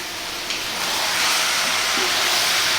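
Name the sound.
chicken pieces frying and being stirred in a pan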